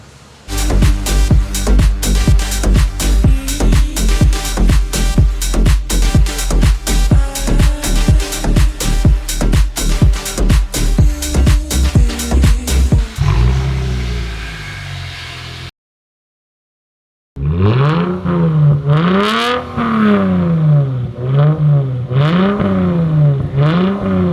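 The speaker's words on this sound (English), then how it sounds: "So that was a straight pipe muffler delete, resonator delete." A Lexus IS350 with a straight-pipe muffler and resonator delete, a long run of loud rhythmic revs close by, then a brief silence and a second stretch of rising and falling engine revving.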